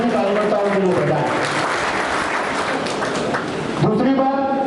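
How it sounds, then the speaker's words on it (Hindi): Loud applause from a gathering of political party workers, sustained broadband clapping that swells and holds for several seconds, with voices and speech over it at the start and end. "एक बार जोरदार तालियां इसके लिए सभी कार्यकर्ताओं के लिए बजाएं"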